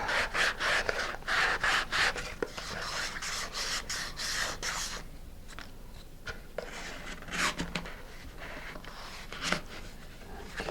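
Sandpaper rubbing against a wooden centering ring and a model rocket coupler tube, a steady close scratching in quick back-and-forth strokes, dense at first, then sparser with pauses and short scrapes.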